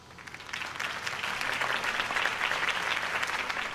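A crowd in the Batman Telltale video game applauds after Harvey Dent's campaign speech, a dense, sustained round of clapping that swells and holds steady throughout, with no talk over it.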